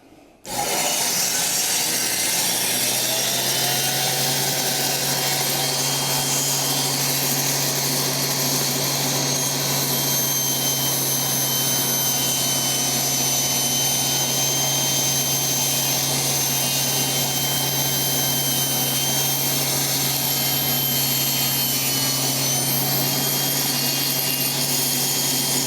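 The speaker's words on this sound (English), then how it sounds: "I want to bring the cut up and see whether or not we are clearing that splitter." A Shopsmith saw cuts wood through a zero-clearance table insert with a splitter, producing a continuous, steady whine and rasping cut that starts abruptly and runs unbroken without talk.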